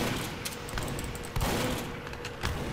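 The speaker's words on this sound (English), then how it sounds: "I'm getting shot at." Gunfire in Team Fortress 2, a rapid fusillade of shots and sharp bursts at close range, with several louder cracks standing out over a constant din of battle.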